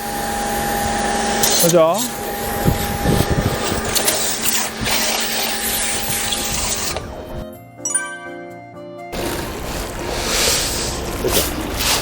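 Makita-battery cordless portable high-pressure washer, model KMPW-40B, spraying water in a loud continuous hiss that cuts out for about a second and a half and then resumes, with someone speaking briefly near the start.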